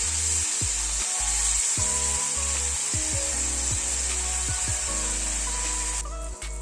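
Cubes of paneer fry in hot oil in a pan, giving a continuous bright sizzle with intermittent low scraping and clunks as pieces shift.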